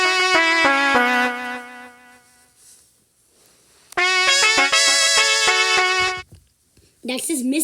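Turple, a Sprunki character from a video game, makes a tonal, melodic vocal-like sound in stepped notes, with a burst, a pause, a second longer burst, and then a speaking voice near the end.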